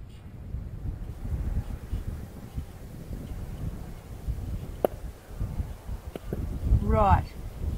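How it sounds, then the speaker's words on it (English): Strong wind buffets the microphone at an outdoor long-range shooting range, a steady low roar with gusts swelling throughout, plus a sharp click and a brief whistling sweep near the end. "Well, that's a lot of wind."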